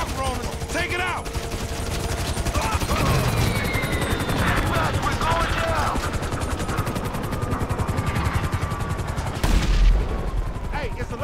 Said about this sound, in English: We ain't going nowhere with that chopper on us!